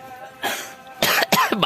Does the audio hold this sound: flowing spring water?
no